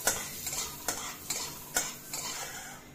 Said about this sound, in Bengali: দিয়ে এবার এটা আমি ফোড়নের মতন ভেজে নেব